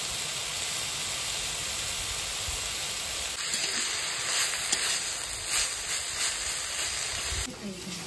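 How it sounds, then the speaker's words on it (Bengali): Leafy stalked greens frying in hot oil with nigella seeds and chilli, a steady broad sizzle and hiss that grows busier and more crackly partway through, continuous and close throughout. "শাকটা ভেজে নেব।"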